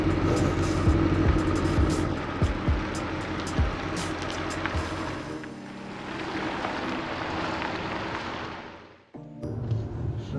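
A 2020 Cadillac CT6-V on a test drive, with steady engine and road noise from inside the cabin, a smooth sustained roar that eases off and then briefly drops out near the end.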